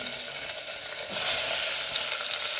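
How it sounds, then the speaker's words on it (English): Chilies and tomato frying in a pan, a close, continuous sizzle that grows brighter and louder about a second in as they hit the hot oil, with no talking. "Now we will add our chilies and tomato and fry them"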